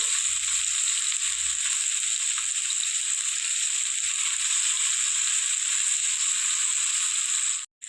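Pumpkin leaves with chana dal fry in a pan over a low gas flame, giving a steady, bright sizzle that runs throughout with faint stirring clatter, then cuts off abruptly at the end.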